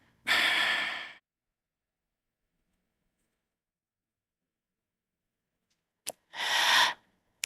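Two slow, audible breaths during Vinyasa yoga practice: a long exhalation near the start, then after a pause another soft breath sound, each clear against silence with no talking.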